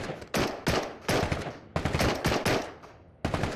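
Automatic AK rifle fire in the video game Into the Radius, several loud close bursts separated by short pauses, with no speech over them.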